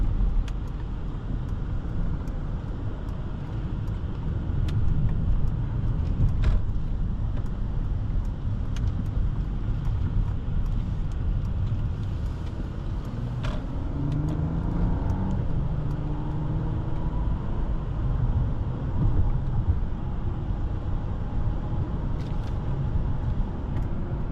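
A 2023 Mercedes-Benz S 500 4MATIC cruises at speed: a steady, muffled low road and engine hum with tyre rumble, heard from inside the cabin and alone, with no talk.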